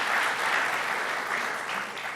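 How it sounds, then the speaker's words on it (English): A crowd at a governor's budget announcement claps steadily, a dense wash of applause that holds at an even level throughout, with no speech over it. "So we can give that a round of applause."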